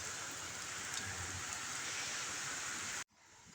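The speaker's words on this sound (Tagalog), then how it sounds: "Medyo malakas ang buhos ng ulan." Heavy rain pours down steadily in a dense, constant hiss, then cuts off abruptly near the end before resuming faintly.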